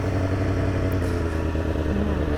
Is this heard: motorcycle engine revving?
yes